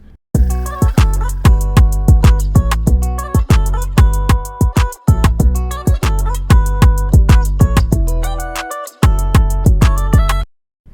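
A steady, punchy guitar rhythm with the low frequencies cut, fast repeated strums and plucks, with brief pauses between phrases, played alone with no other instruments.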